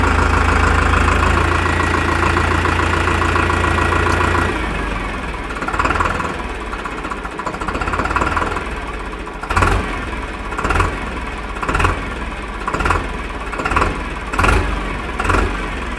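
A Powertrac tractor engine runs close by, first as a loud, steady drone, then as a lower idle broken by a regular series of short revving surges.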